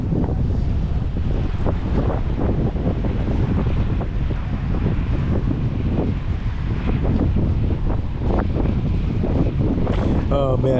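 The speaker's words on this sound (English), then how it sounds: "Here the wind kind of picked up, so it is a little more rough than it was when I got here" Strong wind buffets the microphone beside a large bridge on the South Florida saltwater coast at night, a steady loud roar with rough water and waves churning underneath throughout.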